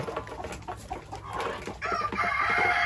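Hens cluck and a rooster crows among farm chickens, including a brooding hen with chicks, with steady close clucking throughout that grows louder and busier toward the end.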